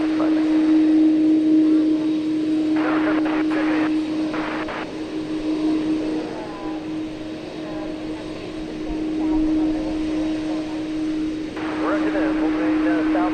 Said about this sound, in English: We'll take a look at American Flight 1663 from Phoenix, Airbus